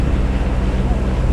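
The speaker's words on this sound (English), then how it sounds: "Yeah, it's a little bit windy" Steady wind buffets the microphone on a boat on the tidal River Trent, a dense low rumble with water noise beneath, continuous and loud throughout.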